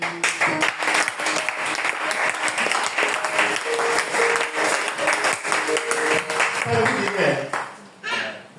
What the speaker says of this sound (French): Est-ce qu'on peut acclamer Jésus?